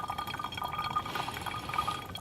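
Water trickles and drips through a small coffee pour-over funnel outdoors beside a campfire, a soft continuous splashing with brief bright drip accents and no talking.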